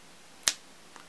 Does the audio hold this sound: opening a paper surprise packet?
no